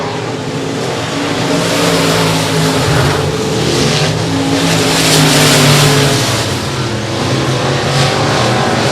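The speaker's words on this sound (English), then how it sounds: "Tony McCormick and Jared Hebert going side by side for third as they go down the back stretch for the final time" Race cars roar around the Sabine Speedway dirt track in a continuous, loud engine drone that rises and falls slightly as the field runs the final lap.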